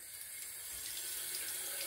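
Water running steadily from a tap into a sink, a continuous faint hissing flow with no voices.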